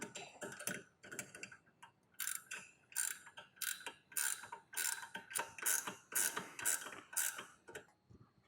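A ratchet with an H10 socket cinches down brake caliper bolts on a turbocharged E36 BMW M3, giving bursts of rapid pawl clicks in an uneven rhythm, close and crisp, with no talking.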